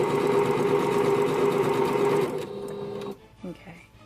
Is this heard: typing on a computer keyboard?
no